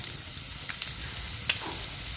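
Onions and green chillies fry in hot oil in a wok for pasta, giving a soft, steady sizzle with a few faint crackles and stirring taps.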